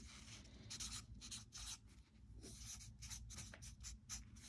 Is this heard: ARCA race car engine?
no